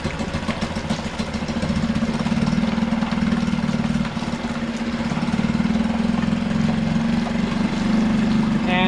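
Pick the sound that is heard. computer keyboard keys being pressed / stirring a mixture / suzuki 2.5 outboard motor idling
suzuki 2.5 outboard motor idling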